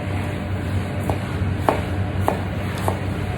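A very sharp knife slicing raw artichoke on a board, four or five soft, evenly spaced cuts heard close over a steady background hiss and hum, with no speech.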